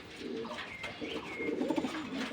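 Pigeons coo at a large pigeon farm, soft throaty cooing calls from a few birds overlapping close by, fairly quiet and without talk.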